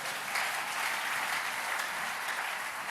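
A church congregation applauds during a worship service, a dense, steady wash of clapping from many hands filling the room without pause.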